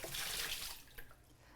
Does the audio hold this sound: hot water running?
yes